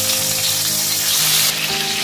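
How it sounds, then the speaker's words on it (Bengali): Pieces of potol (pointed gourd) fry in hot mustard oil, giving a steady, close crackling sizzle like light rain, continuous and fairly loud with no talking. "এবার পটলগুলোকে একটু নাড়াচাড়া করে আমি ফ্রাই করে নেব যতক্ষণে একটু সফট হয়ে যাচ্ছে"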